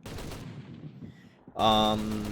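Loud Japanese 7.7 mm aircraft machine gun fire in War Thunder, harsh rattling bursts up close that briefly drop off, then return with a heavy drone.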